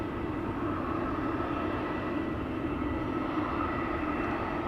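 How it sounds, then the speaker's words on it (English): An Airbus A320 bound for Manchester taking off from the Polderbaan runway at Schiphol, a steady, dense jet engine roar holding constant throughout, fairly loud and without speech. "the A320 to Manchester will be taking off from the runway threshold"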